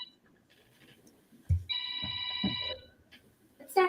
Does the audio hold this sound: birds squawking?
no